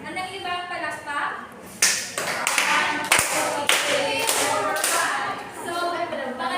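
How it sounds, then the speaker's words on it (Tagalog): Students in a classroom giving a group a patterned rhythmic clap, with sharp irregular bursts of hand claps and a few taps and thuds, mixed with voices talking and cheering throughout. "maaari niyo bang bigyan ang pangkatwan ng isang anong ibang palakpak?"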